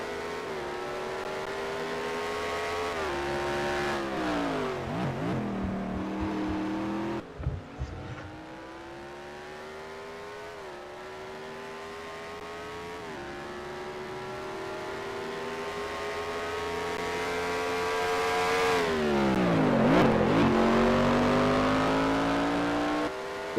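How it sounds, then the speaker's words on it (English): A number 23 Ferrari race car in a racing video game revs hard through its gears, the engine note rising and dropping sharply on upshifts and braking, loud and close throughout with no talking. "He is driving the Reese's Pieces number 23 Ferrari."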